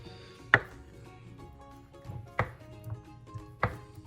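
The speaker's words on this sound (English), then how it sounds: "Our knife, we're just gonna chop these into little pieces." A kitchen knife chops butter into small pieces on a cutting board, giving three sharp, separate knocks spaced about a second or more apart, close and clear with faint handling sounds between them.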